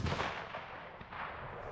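Rifle shot from AAC Sabre Black Tip 6.5 Grendel ammunition fired at a 300-yard target: one heavy, booming report with a rolling outdoor echo that fills the short clip, no talking.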